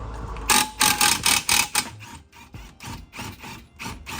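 A ratchet loosens a penetrating-oil-soaked rear upper control arm bolt on a Fox Body drift car. Loud, close bursts of rapid mechanical clicking come in repeated strokes, then lighter, steadier ratcheting.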